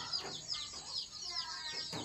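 Desi hens cluck and chirp faintly on a small farm where a brooding hen has just hatched twelve chicks, several short calls spread over a couple of seconds.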